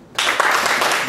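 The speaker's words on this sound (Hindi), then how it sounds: "एक बार बिफोर स्टार्टिंग इस जगह के लिए एक बार ताली बजा।" An audience at a book launch starts clapping abruptly after a brief pause, producing a short, dense burst of applause that holds steady to the end.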